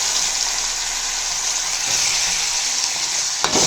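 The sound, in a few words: chopped tomato and onion frying with drumstick leaves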